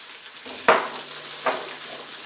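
Carrots sizzle and fry loudly in a very hot pan for a habanero mango sauce, a constant close hiss with two sharper bursts as they are stirred in and spread out.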